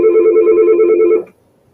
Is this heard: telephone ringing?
yes